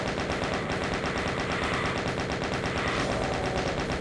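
A chain gun in the Voxel Doom 2 video game fires in a continuous rapid rhythm of loud, close shots, unbroken for several seconds with no talking.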